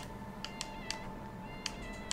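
A cat meows several times in quick, short chirps in the sci-fi RPG Star Shift Rebellion, fairly faint over a steady low game background hum.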